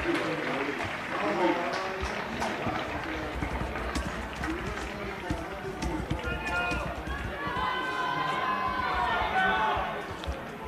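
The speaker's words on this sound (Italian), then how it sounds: "lasciamo parlare gli applausi del pubblico" Crowd of fans applauds and cheers as the Napoli football team walks onto the pitch for a training session, steady distant clapping and running footsteps under near-continuous voices.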